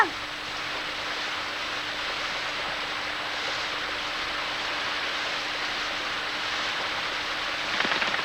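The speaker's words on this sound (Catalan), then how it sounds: "Oh, ha començat a ploure molt fort!" Heavy rain pours down in a dense, steady hiss that fills the whole clip, loud and constant.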